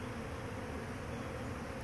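A honey bee swarm that has joined up with another swarm makes a steady, dense buzzing hum. The hum is fairly faint and continuous, with no voices.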